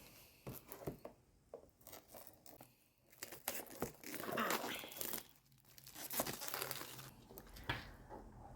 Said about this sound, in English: I'm going to just quickly unwrap it with us using my fingers